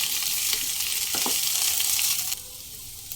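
Boiled potatoes frying in ghee with black cumin and slit green chilies over low flame, a steady close sizzle with a few spatula scrapes that drops suddenly to a quieter hiss.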